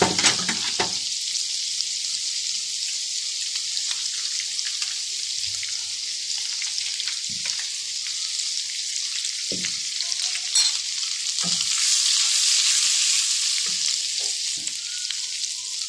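Butter melting in a pan for a white sauce for chicken pasta gives a steady, close, bright sizzling hiss that runs throughout, with a few soft knocks and a slight swell in intensity near the end.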